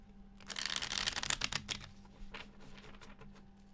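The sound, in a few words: shuffling tarot cards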